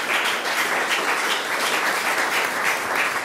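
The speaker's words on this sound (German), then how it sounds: "Super Applaus" An audience at an international evening event bursts into loud, steady applause, dense clapping sustained throughout with slight swells.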